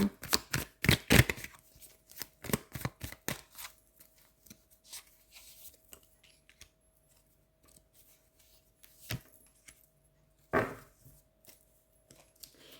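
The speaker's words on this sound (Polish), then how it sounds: "Wezmę jeszcze dwie karty." Tarot cards being drawn and handled during a monthly Cancer horoscope reading, heard as a burst of sharp rapid card snaps and shuffles up front, then scattered softer slides and taps with quiet gaps, one crisp flick near the end.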